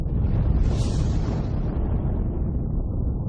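A supernova explosion sound effect: a single deep, sustained rumbling blast that stays loud and dense, with its bright upper roar fading away over a few seconds.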